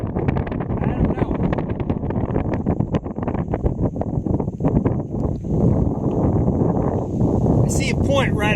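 A strong wind gust roars across a lake in Hoosier National Forest, buffeting the microphone with a loud, sustained rush that holds steady throughout, briefly joined by a few chirpy sounds near the end.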